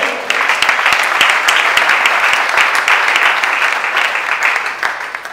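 An audience applauds in a loud, continuous wash of clapping for an honoured vice-president at a gathering. The sustained applause holds steady throughout, with faint voices mixed in underneath.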